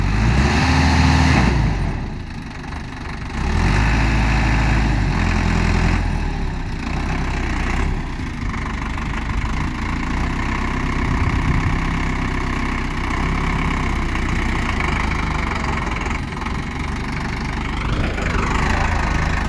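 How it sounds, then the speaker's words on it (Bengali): A car stuck in wetland, its engine held at high revs as the wheels spin, gives a steady loud roar that rises and falls for about twenty seconds with no talking. "হর্স পাওয়ার এক ফুল দিচ্ছে ভাই, চাকা যোগান হচ্ছে"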